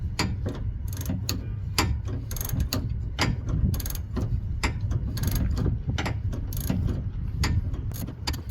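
A ratchet with a 19 mm socket works a sway bar end link on an Acura RDX, rapid close clicking repeated steadily throughout, alone with no talk.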